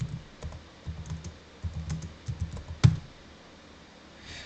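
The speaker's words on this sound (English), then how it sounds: "Let me type it in." Keys clatter on a computer keyboard in short irregular bursts of close, crisp typing, ending with one sharper stroke and then quiet; no voices are heard.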